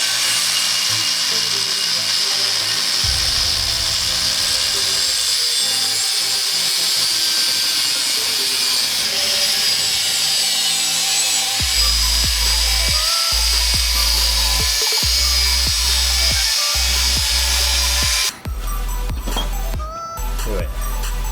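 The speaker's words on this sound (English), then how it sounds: "then cut the entire strut assembly off" A power tool grinds and cuts through a BMW E30 strut assembly, a shrill, sustained whine with intermittent bursts and a heavier low buzz in the later part before cutting off abruptly near the end.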